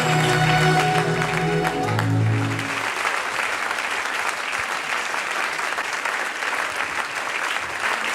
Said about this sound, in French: Keep clapping your hands.